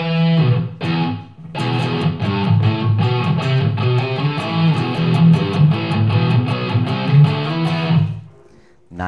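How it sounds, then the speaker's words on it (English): An electric guitar plays chords and picked notes through an effects unit set to a small room reverb, loud and close, with short ringing tails after each strum, then trailing off into near silence at the end. "And let's go to a small room reverb."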